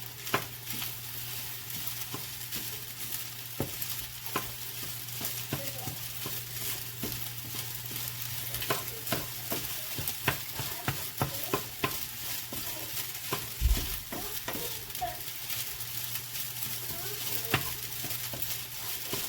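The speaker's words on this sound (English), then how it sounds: "we're gonna come back over here to our rice and then we're gonna stir it around" Rice being stirred in a hot pan for a shrimp meal-prep dish, a steady low sizzle under repeated scraping and clinking strokes of the utensil, close and continuous with no talk.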